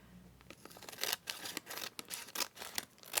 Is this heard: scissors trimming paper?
yes